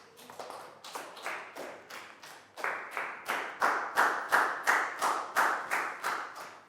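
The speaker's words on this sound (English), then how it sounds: "High five and a big round of applause for Chu," A classroom round of applause for a Year 4 student, rhythmic group clapping in a steady beat that builds in loudness and stays fairly close.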